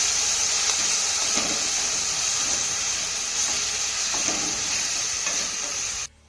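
Ground onion paste fries in a pan, giving a steady, close sizzle with a bright hiss and faint stirring scrapes that run evenly throughout, then cut off abruptly at the end.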